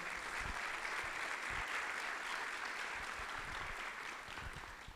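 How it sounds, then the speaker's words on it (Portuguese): An audience at a business panel on customer-journey strategy gives a guest a dense, steady round of applause that stays fairly loud and even throughout, with no talking over it. "uma salva de palmas para ela"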